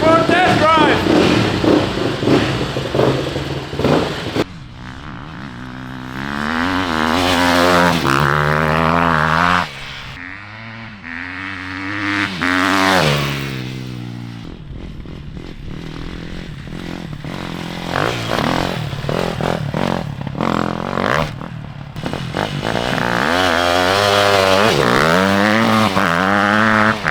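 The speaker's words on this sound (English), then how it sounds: "Let's see if it runs. Let's take it for a test drive!" The 40hp engine fitted to a Little Tikes Cozy Coupe, freshly fuelled with a cleaned carburettor, runs loud and close on a test drive, revving up and down in long sustained waves with brief dips.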